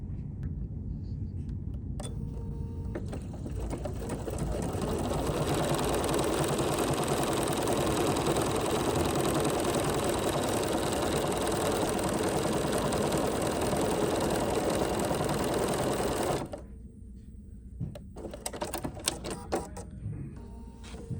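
Sewing machine running steadily as it stitches a repeating decorative pattern of eyes and citrus slices on fabric, a loud continuous whirring drone for about fifteen seconds, then stopping into quieter handling clicks.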